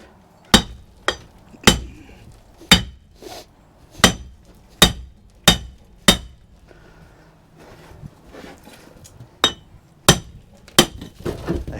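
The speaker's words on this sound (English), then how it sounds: "let's see if we can't hammer this one off like we had to do the other one." Hammer blows on a wheel hub of a homemade mini tractor, a dozen or so sharp metallic strikes with a ringing clink, some fast pairs and some spaced a second apart, close and loud with no talking.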